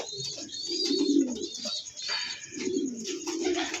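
Pigeons kept for sale coo in low, rolling phrases, nearby and repeated, with thin chirps above and no voices.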